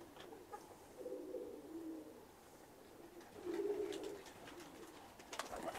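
Hungarian bango pigeons in a loft give low, soft cooing calls in a few rolling phrases, faint and somewhat distant against a quiet background.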